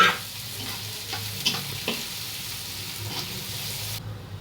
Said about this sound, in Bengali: সেটা একটি গরম পাত্রে সরিষার তেল দিয়ে সেখানে আমরা শুকনো মরিচগুলো, পেঁয়াজ এবং রসুনগুলোকে এখন ভেজে নিব।